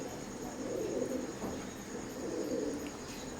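A KTM Teddy pigeon pair of Oman bloodline cooing softly in a quiet room, two gentle low rolling coos a moment apart, faint and close.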